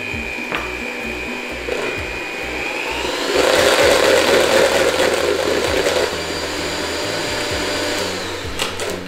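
An electric mixer whips cream toward heavy peaks, a whirring motor that rises in pitch and intensity partway through, then settles back to a steadier hum, close and alone without talking.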